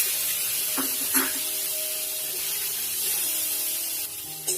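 Chopped tomato goes into a hot pan of melted butter with a cinnamon stick and a chili, giving a steady sizzle and hiss with a couple of soft splattering bursts as the pieces land.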